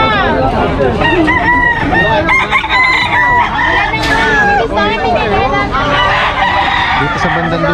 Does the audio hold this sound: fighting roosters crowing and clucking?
yes